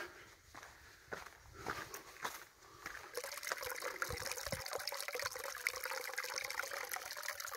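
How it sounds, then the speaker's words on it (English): Water trickles from a mountain spring along the Continental Divide Trail between Silver City and Doc Campbell's, a soft running sound behind close footsteps crunching on the trail. "And the spring is right down there."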